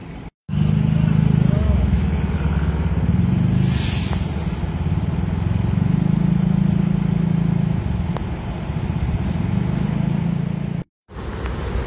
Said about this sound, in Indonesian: Nah ini busnya udah dinyalakan mesinnya.